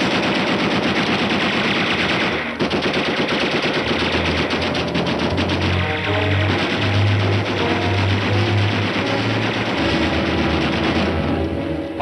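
Machine guns fire in a 1945 World War II film, sustained rapid bursts lasting the whole stretch, loud and close, with heavier booming shots layered underneath midway.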